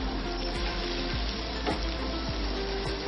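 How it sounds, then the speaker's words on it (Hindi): Eggs with spices stir-frying for egg bhurji make a steady, dense sizzle throughout, with a few faint scrapes of a spatula against the pan. "अब इसको चलाएंगे हम धीरे धीरे। सारे मसालों में अंडों को ऊपर नीचे करते हुए मिला देंगे।"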